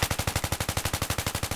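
Rapid automatic gunfire in Battlefield 3 on Operation Metro in rush mode, a steady stream of evenly spaced loud close shots, about ten per second, with no talk over it.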